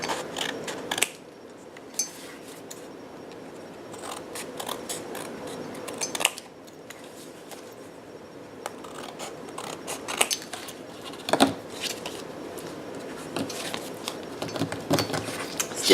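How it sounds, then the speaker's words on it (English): Scissors snip through white card paper while a handmade cherry blossom greeting card is trimmed, giving repeated crisp, close cuts in irregular bursts with short pauses and no talking. "I'm going to trim the white off"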